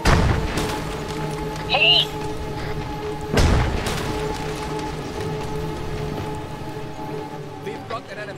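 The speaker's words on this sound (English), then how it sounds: "A building just fell on you." A building collapsing in a Star Wars mod for ARMA 3, heard as two heavy booming crashes amid steady rain-like ambience and distant gunfire, with a brief shout from a player.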